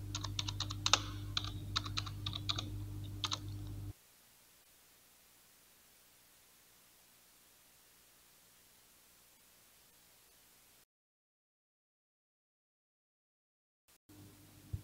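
Rapid keystrokes on a computer keyboard while a map title is entered in mapping software, a close, busy burst of clicks for about four seconds before the room falls almost silent.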